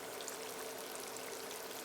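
Chicken fried steak laid into hot fat sets off a steady, even bubbling hiss that stays quiet and unbroken throughout.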